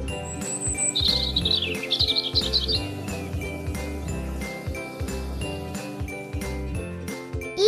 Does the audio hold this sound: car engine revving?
no